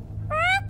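Cat meowing: a single short, clear meow with a slightly rising pitch, close and loud over a low background hum.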